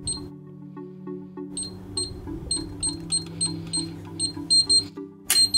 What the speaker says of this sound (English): So let's enter a code.